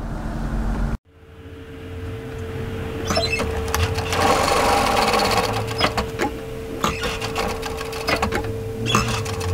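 A sewing machine edge stitching a jacket epaulette, starting after a brief pause and running in a loud close mechanical whir with rapid needle clatter, alone.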